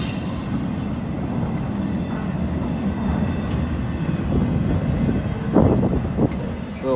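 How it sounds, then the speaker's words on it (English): A 40-car freight train pulled by four locomotives rolls past during rush hour in a continuous loud rumble, with wheels squealing sharply near the end. "So a lot of people get to see the train."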